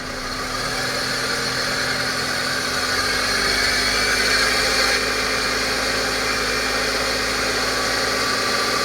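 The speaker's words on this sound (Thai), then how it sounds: "เร่งเครื่อง ครับ" A steady Honda CR-V second-generation engine, revved, runs loud and close for several seconds, its hum holding even with a constant mechanical drone and no talking.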